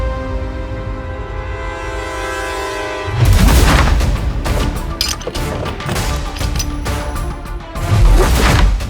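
A gunshot fired at night inside a house rings out as a sudden loud boom, followed by heavy crashing, rumbling noise that stays loud and jumbled for several seconds, with a second sharp burst near the end.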